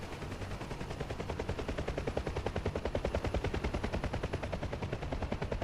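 Rapid, sustained minigun fire in the combat flight simulator DCS, a dense continuous stream of closely spaced shots rattling loudly and steadily for several seconds with no talk over it.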